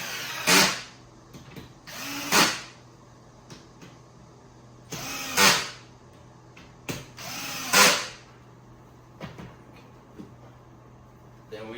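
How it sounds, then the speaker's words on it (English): A power drill drives screws into a car-shaped bed frame during assembly, with four or five short whirring bursts a second or two apart, each rising and stopping sharply, close and fairly loud. Faint clicks and handling noise fill the gaps. "Secure it with the screws."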